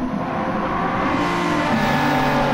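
A NASCAR race car engine in Gran Turismo 7 drones steadily at high revs, a loud continuous buzzing tone with a slight shift in pitch as it holds the throttle.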